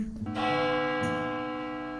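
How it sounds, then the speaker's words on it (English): A clock tower bell strikes loudly once, a bright ringing chime whose rich tones hang and slowly fade, with a brief second stroke layered in. "At that moment, the clock tower let out a loud chime."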